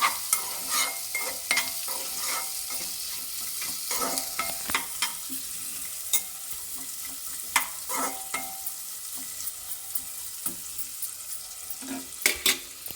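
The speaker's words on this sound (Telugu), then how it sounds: "అదే నూనెలో మనం ఫ్రై చేసుకోవాలి మంచిగా" Onions fry in a light layer of oil for a baby potato masala curry, a continuous sizzle broken by frequent scraping stirs and spatula knocks against the pan, close and without talk.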